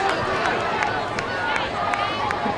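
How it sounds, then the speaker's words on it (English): The student section of Snider High School chants in the stands at Zollner Stadium late in a high school football game. A rhythmic chorus of many voices carries over crowd noise, with sharp periodic accents like claps or shouts. "I think that's a pretty safe chant there by the student section of Snider"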